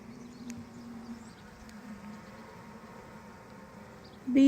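A steady, low hum of honey bees from a hived swarm with laying workers buzzing fills the clip close by, ending in a sudden louder scrape or knock.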